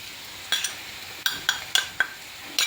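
A spoon scrapes and taps against a pan while masala for chow-chow (chayote) curry fries. The sharp metallic clinks come close and irregular over a faint background.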